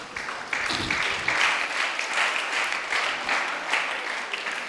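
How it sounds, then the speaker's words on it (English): An audience at a motivational talk breaks into steady applause for a question from the floor, dense and sustained at moderate volume, with a few brief voices mixed in near the start. "So a big round of applause to sir for asking this question."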